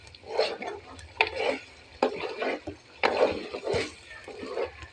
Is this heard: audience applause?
no